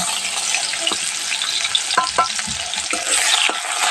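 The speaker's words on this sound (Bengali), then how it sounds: "আর এবার পেঁয়াজ আদা রসুন বাটাটা তেলের করে দিয়ে দেব" Onion, ginger and garlic paste frying in hot oil gives a steady close sizzle, with a few soft scrapes of stirring scattered through.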